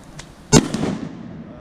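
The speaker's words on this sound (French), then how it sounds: "Ça c'est du bon pétard aussi" A single sharp firecracker bang goes off outdoors at a Gilets Jaunes protest in Tournai, loud and close, with a short rumbling echo and crowd noise around it.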